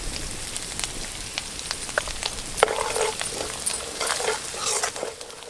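Chopped onions fry and sizzle steadily in a pan with turmeric added for a crab curry, a constant crackling hiss with occasional sharper pops and stirring sounds.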